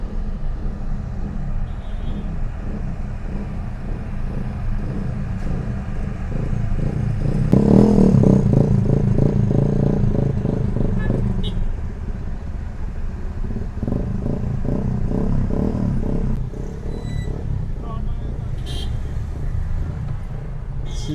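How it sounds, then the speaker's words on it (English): Cars and motorcycles pass on a busy road into Montego Bay, Jamaica after hurricane damage, heard as a continuous rumbling traffic wash that swells around the middle, with occasional clatter. "You're going to encounter all kind of traffic now."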